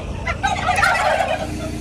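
Farm turkeys gobble in a loud, rapid burst of warbling calls that peaks mid-clip, close by and with no talk.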